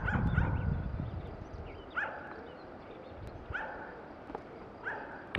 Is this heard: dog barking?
yes